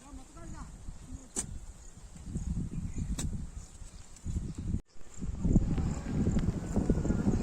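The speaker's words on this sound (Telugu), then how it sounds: "నా వెనకాల దూరం నుంచి ఆవు దూడలు పరిగెడుతున్నాయి" Two-month-old calves run on a farm field, their hooves thudding faintly in the distance as a soft, irregular patter over rustling outdoor background.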